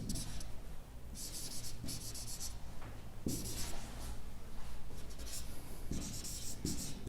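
Marker or chalk strokes on a classroom board come in short scratchy bursts, several quick lines in a row with brief pauses between them, close and fairly quiet, with no talking over them.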